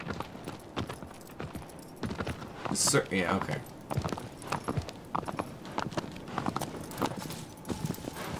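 Horse hooves clip-clop in the video game Shadow of the Colossus, a run of moderately loud, rhythmic hoofbeats heard alongside background music and a voice talking over them.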